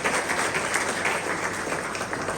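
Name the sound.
applause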